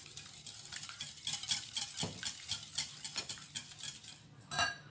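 Lemon cake batter with lemon juice, oil and lemon zest is stirred in a bowl, a quiet, close series of rhythmic scraping and clinking strokes of a utensil against the bowl.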